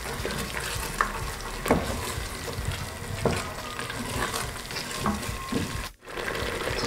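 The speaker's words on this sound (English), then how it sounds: "Just continue stirring it." A cooking paste for Kenyan pilau is stirred in a pot, giving a steady close sizzle broken by repeated scraping strokes and a brief pause near the end.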